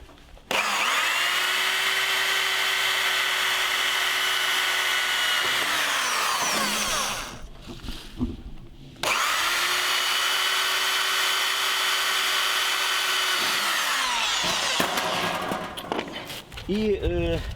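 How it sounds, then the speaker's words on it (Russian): A small power drill with a 2 to 2.5 mm bit whines steadily in two long runs, separated by a brief pause, with a short burst of handling noise at the end. "Таким сверлом вот так вот прохожу."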